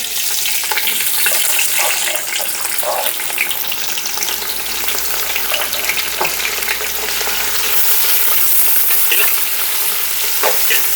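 Onion frying with whole spices such as cloves in a pan over moderate heat for coconut chicken pulao, giving a continuous bright sizzle with scraping stirring strokes and small crackles, close and steady.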